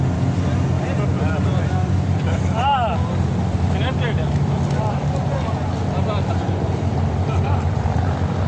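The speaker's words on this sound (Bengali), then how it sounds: "ছোটোখাটো স্পিড বোর্ড আছে, দেখেন স্পিড বোর্ডে করেও মানুষ ঘুরে" A small speedboat runs on open water on a holiday afternoon, its steady engine drone mixed with strong wind buffeting the microphone and distant people's voices.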